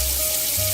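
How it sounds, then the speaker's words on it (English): Water runs steadily from a tap into a sink being filled for cleaning, a brief, continuous rushing splash with a faint ringing tone. "I end up just filling this up with water"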